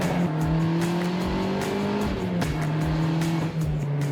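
Turbocharged Mazda ND Miata engine pulling hard under acceleration, a loud, steady rising drone heard close up from inside the car, with a brief shift-like dip partway through.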